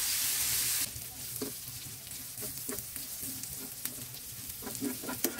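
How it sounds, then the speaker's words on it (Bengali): Chicken pieces fry in soybean oil in a pan on a stove for a bread-based chicken pizza, giving a steady sizzle broken by clinks and scrapes from stirring. The start is louder and hissier, then the sound settles; no one speaks. "মাংসগুলো দিয়ে এবার আমি ভালোভাবে নেড়ে সিদ্ধ হওয়া পর্যন্ত ভেজে নেব।"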